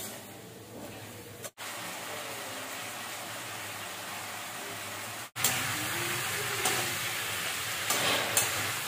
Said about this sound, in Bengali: আর এখানে আলু বেগুন ভাজছি।